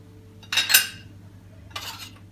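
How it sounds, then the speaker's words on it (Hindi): A spoon stirs ground spices into a ginger garlic pickle in two brisk, close scraping strokes, each a bright metallic clink and rasp against the container, with quiet between. "ये देखिए चम्मच से आप इसमें ये सारा मसाला मिला लीजिए।"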